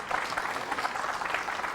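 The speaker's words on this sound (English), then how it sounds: "Crowd shows its appreciation of the touch" Crowd at the 2006 World Pool Championship applauding a pool shot, steady close clapping for under two seconds with no talking.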